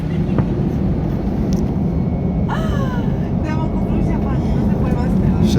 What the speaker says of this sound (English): So expecting a rocket takeoff here. Get those engines fired up, mate.